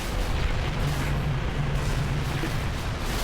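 A grenade explosion in the video game Halo 3 on Legendary difficulty, heard as a dense, loud, sustained rumbling roar of blast noise with no voices over it.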